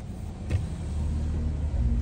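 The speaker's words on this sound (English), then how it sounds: "This car just blew a red light in front of a cop." A passing car on a street in Coral Gables, Florida, running a red light in front of a police officer, heard as a steady low road rumble with a brief bump in the middle, fairly close.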